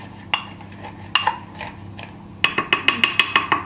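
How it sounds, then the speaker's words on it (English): Wooden spoon tamping greens down into a juicer, a few separate knocks followed by a quick run of about eight rhythmic taps, close and clear. "I'm going to first tamp this down with a wooden spoon"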